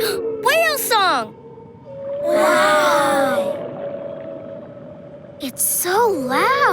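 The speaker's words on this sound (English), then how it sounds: "Whale song!" Loud, close whale song in an animated children's adventure: several bursts of warbling, rising and falling moans with pauses between them, and a child exclaims over the calls.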